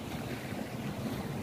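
Wind buffets the microphone at a beach at low tide, with a steady rush of surf and waves underneath, continuous and fairly faint.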